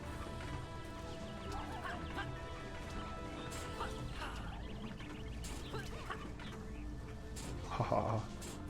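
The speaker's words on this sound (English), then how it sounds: "I forgot there was birds in this level" Birds squawking and clucking in Dungeon Defenders: Awakened, a busy layer of fowl-like calls over steady game noise, with a louder burst near the end and some talk mixed in.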